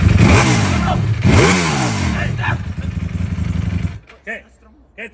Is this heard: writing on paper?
no